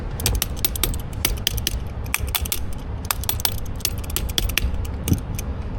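A wrench tightens a new car battery terminal connector during a battery relocation, giving a steady run of rapid, close metallic ratchet clicks over a low mechanical rumble, with no voice.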